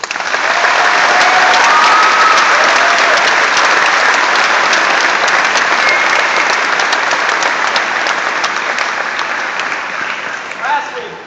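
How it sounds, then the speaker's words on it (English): Loud, sustained audience applause at a youth explorer recognition event, dense clapping that stays full and even for about ten seconds before tapering slightly at the end. "she deserves an applause for that"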